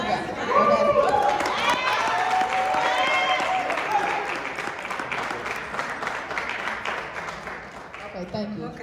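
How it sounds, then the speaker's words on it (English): A crowd at a gathering claps in sustained applause that slowly fades, with cheering and chatter mixed in and voices talking over it. "Let's give him a round of applause."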